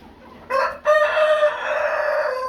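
A Japanese bantam rooster crows loudly and close by in a pen, giving a short opening note followed by a long, sustained, wavering call.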